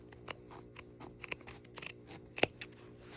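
Fabric for a dining seat cover is snipped with scissors, producing close, crisp blade clicks in an uneven rhythm, with one sharper snip near the end.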